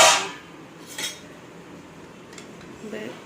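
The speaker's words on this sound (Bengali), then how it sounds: "ডাল হয়ে গেছে ডালটা নাড়িয়ে দেখাচ্ছে" Cooked masoor dal of medium thickness being stirred in a pot, with a few sharp metallic clinks and knocks of a spoon against the rim over a quiet background.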